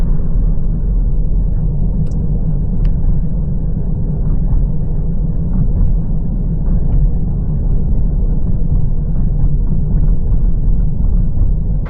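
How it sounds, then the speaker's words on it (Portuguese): A car rolling along smooth tarmac rather than cobblestones, giving a steady, continuous low road and engine rumble heard from inside the cabin for the whole stretch, with a couple of faint clicks and no talking. "Aqui estou a percorrer já piso alcatroado, sem serem paralelos. Vamos ouvir o som."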